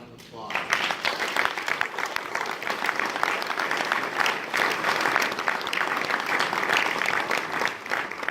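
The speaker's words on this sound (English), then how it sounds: "Let's have another round of applause." Audience applause at a school community gathering honoring the 1966 Williamsburg state championship teams, steady dense clapping that swells in after a short quiet start and holds for several seconds, close and full.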